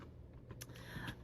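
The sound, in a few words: typing on a computer keyboard with one hand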